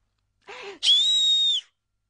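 A short burst of airy noise followed by a steady high whistle held for nearly a second, close and clear, then silence.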